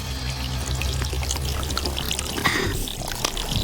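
Muddy water being drawn through a tightly fitted purifying filter outdoors, a steady close pouring, trickling flow that runs continuously with a few small splashes and no talk.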